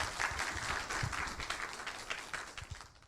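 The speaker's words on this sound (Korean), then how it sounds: "유익한 강연 전해주신 오룡 작가님께 다시 한번 큰 박수 부탁드립니다." An audience at a public broadcast lecture concert applauds a speaker after the talk, steady dense clapping from a crowd that fades slightly toward the end.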